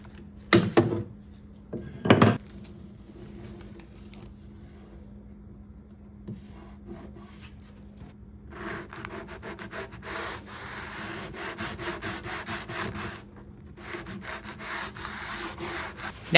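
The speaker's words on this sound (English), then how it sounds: "I pulled everything off and I was ready to sand it down" A wooden campaign dresser is sanded down by hand: two sharp knocks early, then quiet scraping, then long steady rubbing strokes of sandpaper on wood, close and alone.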